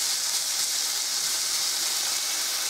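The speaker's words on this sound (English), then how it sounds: "all of this nice sizzling bacon," Bacon sizzling in a pan while cooking for a beef and bacon stew, heard as a steady, close, bright hiss and crackle that continues evenly without pause.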